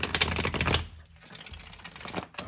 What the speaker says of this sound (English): I'm going to give these cards one more shuffle